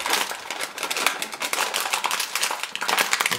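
A plastic inner bag of Kellogg's cereal from a variety mix is pulled open, giving a dense run of loud, close crinkling and crackling that goes on without talk.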